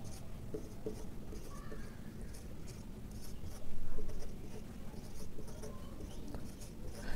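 Pen or marker scratching steadily across a surface while writing out an electron configuration diagram, soft and close, with a faint room hum beneath and no talking.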